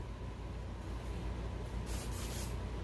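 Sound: spraying Weldwood contact cement from a spray can

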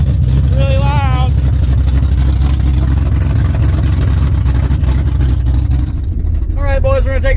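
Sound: Lightning truck engine with open headers, very loud

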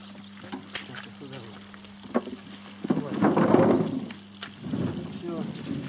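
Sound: pouring water to wash carrots

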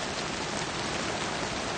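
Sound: artificial rain on a film set

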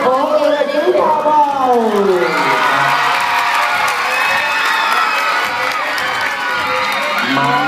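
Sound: crowd applauding and cheering

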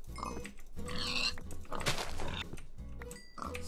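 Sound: pigs grunting in video game Minecraft

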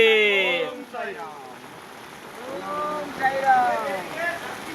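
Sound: heavy rain

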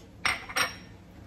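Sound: mixing spice paste for lamb chops in a bowl

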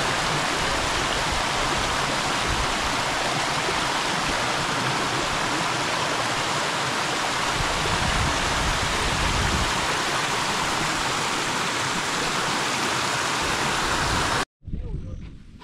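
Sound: small village waterfall flowing

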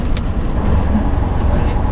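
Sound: truck engine accelerating uphill in low gear

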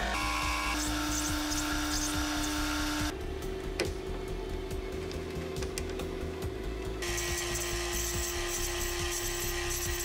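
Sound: turning and threading a brass adapter

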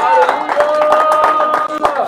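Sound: church congregation applause

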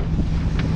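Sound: strong wind on a sailboat

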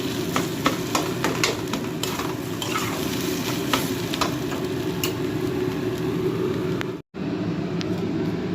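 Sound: stirring mashed potato in a kadai

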